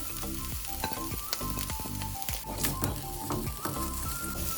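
Capsicum drops into a hot pan for a restaurant-style hot and sour soup, giving a loud continuous sizzle with stirring and scraping knocks throughout.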